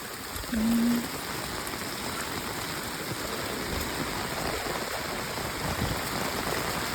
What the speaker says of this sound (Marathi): काल रात्रीपासून खूप जास्त पाऊस पडतोय